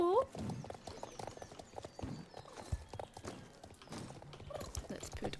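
Horse hooves clip-clop at a walk in the Star Stable horse-riding game, a steady, fairly close patter running throughout alongside other game sounds.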